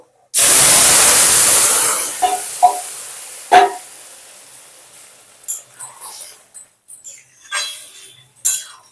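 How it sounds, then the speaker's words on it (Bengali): Vegetables for a vegetarian dish of pumpkin leaves, potato and jackfruit seeds hit hot tempering in a pan with a sudden loud, hissing sizzle that slowly fades, followed by scattered close clinks and scrapes. "এবার এতে আমি এই ঢেলে রাখা সবজিটাকে দিয়ে দেব"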